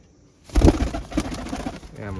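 Pigeon, a slate-grey breeding female kept in a loft, cooing in short low throaty bursts up close, with a faint human voice murmuring in the background.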